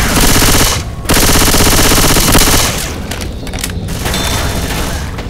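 Sustained rapid gunfire in a shooter video game, a loud continuous automatic burst that briefly pauses, resumes, then thins into scattered shots and booms.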